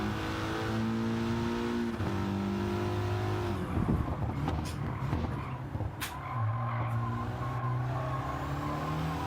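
A Subaru Impreza races in Gran Turismo 7, its engine note climbing and dropping through gear changes with a loud, close, sustained drone and brief tyre-squeal textures, and no voices.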